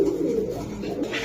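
Pigeons coo in a short, close, low murmuring burst, a soft rolling warble at steady volume with no talk.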